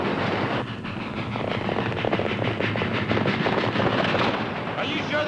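A steam locomotive pulling a special train to Dodge City gathers speed, with loud, rhythmic chuffing that tightens over a dense, noisy roar throughout.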